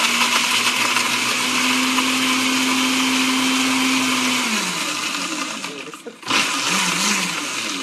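A blender roars loudly at its highest speed, blending a frozen Negroni, its motor pitch dropping near the end before a brief dip and restart.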